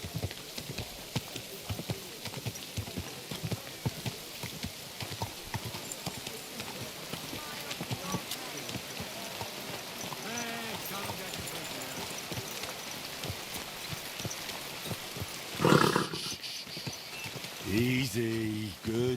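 Horse hooves clip-clopping steadily while riding in Kingdom Come: Deliverance 2, with a soft rain-like hiss underneath and someone talking over it at times.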